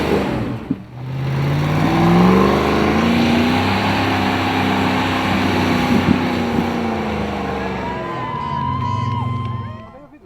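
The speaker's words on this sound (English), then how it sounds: "Initially, the car slid offline, but after another attempt, they too powered through." An off-road rally car at the Spirit of the Charge event drives through water with a loud, sustained engine roar that rises and holds, with buffeting wind noise throughout.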